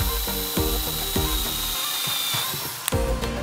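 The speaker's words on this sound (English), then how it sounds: "I'm gonna use this centering drill bit right here" A power drill fitted with a centering drill bit whirs steadily with a high-pitched whine, bit chattering rhythmically as it cuts handle attachment holes into a prop riot shield up close.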